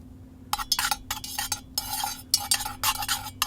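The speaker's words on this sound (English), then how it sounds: "stir it" Melted candle wax being stirred in a container, a close run of rapid scraping and clinking strokes with brief pauses and no talking.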